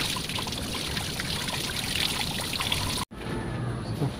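Coolant water pouring and trickling out of a Proton Saga BLM radiator during a radiator swap, a steady close splashing flow that breaks off briefly near the end before resuming.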